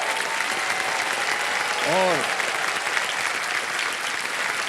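A quiz show studio audience breaks into sustained, loud applause, with a brief voice heard over the clapping.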